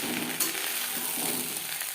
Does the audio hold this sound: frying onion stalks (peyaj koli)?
yes